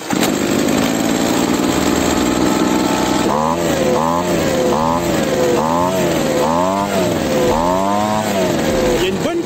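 A Bestgreen petrol leaf blower starts and runs loudly up close. A steady idle is followed by repeated throttle revs that rise and fall in pitch several times.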